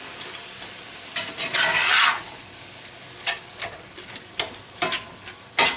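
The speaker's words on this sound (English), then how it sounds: "got the hamburger and the sausage browning" Hamburger and sausage browning in a pan, with bursts of scraping and stirring and a soft frying crackle, several separate strokes close by.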